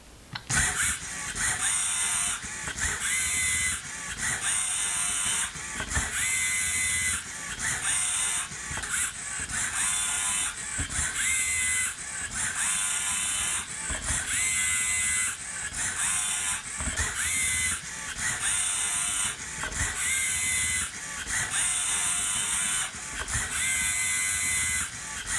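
Prototype LEGO printer picking parts from its supply and attaching them to a plate, producing a steady run of whirring motor bursts broken up by regular clicks and clacks in a repeating mechanical cycle, close and loud, with nobody speaking.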